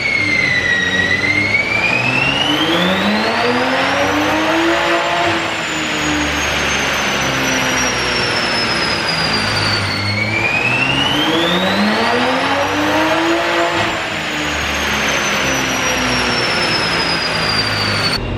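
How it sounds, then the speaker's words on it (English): A Toyota A90 Supra fitted with a Pure turbo and methanol injection is run hard on a dyno. The engine note climbs loud and steady through the gears in two long full-throttle pulls, with no talking. "I'll give you some dyno rips. This A90 Supra with a pure turbo and the Meth injection kit."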